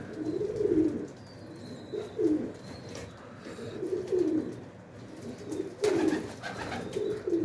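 Pigeons kept in an attic loft give repeated soft, rounded coos in a steady rhythm, close by and moderately loud, with faint chirps and a little rustle between calls.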